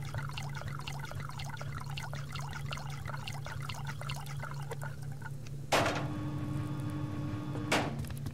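Water filling a container in the survival game Subsistence: a steady trickle with rhythmic dripping pulses, then a louder gush of pouring water near the end, heard alone without talk.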